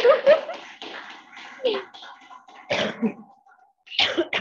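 Several harsh coughs break up nearby speech, with a burst near the start and another after a pause, loud and close.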